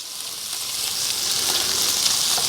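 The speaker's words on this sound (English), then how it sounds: "I'm going to put the pancetta in there and I'm going to brown that off, lightly brown that off." Diced pancetta sizzles steadily in a skillet while being stirred to brown it, a close, continuous crackling hiss that grows slightly louder over the moment, with no talking.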